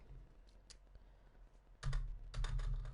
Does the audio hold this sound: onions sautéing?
no